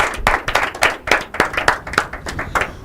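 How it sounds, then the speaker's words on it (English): Audience at an inter-collegiate debate competition clapping, a few close, loud claps in an uneven rhythm over about three seconds. "You can clap better than that."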